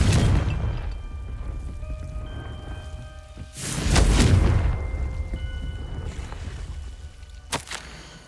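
Confringo spell cast in the Hogwarts Legacy game, a deep booming blast with rumbling debris that rises at mid-clip, over a steady rain-like ambient hiss, followed by a sharp crack near the end.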